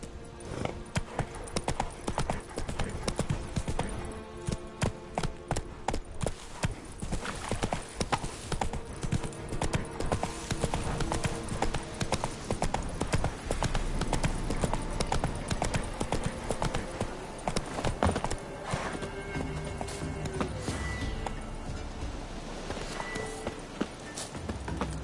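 The hooves of Roach, the horse in The Witcher 3: Wild Hunt, pound in a continuous galloping clip-clop, loud and close, layered with dense game music and ambient effects.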